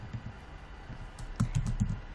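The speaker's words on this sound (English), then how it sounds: "what I'm going to do is type" Fingers type on a computer keyboard in a short run of quick, crisp key clicks, close and clear, growing a little denser toward the end.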